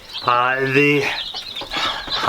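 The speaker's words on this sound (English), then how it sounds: "All right, so the chicks are in." Newly delivered baby chicks peep in a thin, constant high chatter, partly covered by a loud, low, buzzing call early on and rougher sounds afterward.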